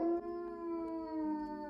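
A dog left alone at home lets out a single drawn-out, wavering howl, close and clear, with no voices around it.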